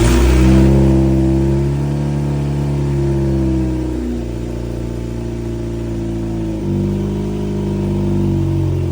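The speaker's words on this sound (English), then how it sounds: "So now let's try to start this car." A turbocharged Toyota Corolla engine running after a start, revving up and settling back in slow swells of a loud, near, droning note, alone without talk.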